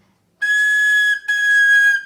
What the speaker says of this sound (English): If you don't close completely, listen to the sound.